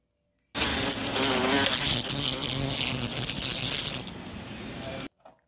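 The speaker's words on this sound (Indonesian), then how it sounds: "ini ada tawon" A continuous wasp buzz hums close by for about four and a half seconds, steady and fairly loud, then cuts out.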